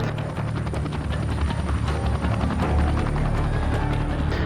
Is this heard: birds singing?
no